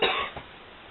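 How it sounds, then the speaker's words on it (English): A single short cough bursts out close and sharp, followed by a softer second catch of breath before trailing into quiet. "I've got a cough again, I'm sorry."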